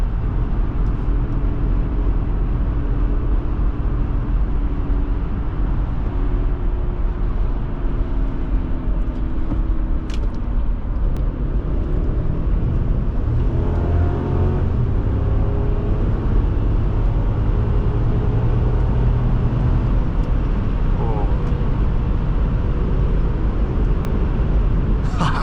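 A 2006 Lexus GX470 SUV cruises along a road in a steady, continuous low rumble of engine and tire noise from inside the cabin, with shifting tones as it moves through traffic and a person talking over it.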